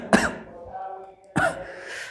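Two harsh throat-clearing coughs from a teacher, close and loud, spaced about a second apart with a quiet pause between them.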